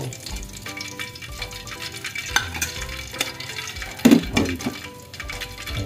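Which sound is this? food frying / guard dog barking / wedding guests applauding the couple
food frying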